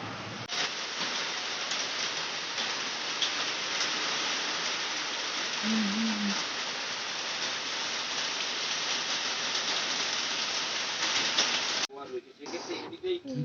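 Heavy rain from Cyclone Remal pours down in a dense, constant roar, with a brief faint voice and a rougher stretch near the end.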